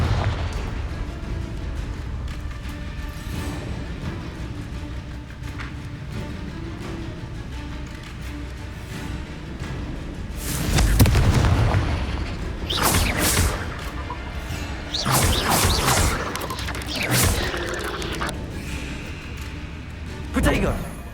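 Fire spells burst with booming, crashing explosions during combat in the video game Hogwarts Legacy, several loud blasts coming in quick succession over background game sound while a person talks.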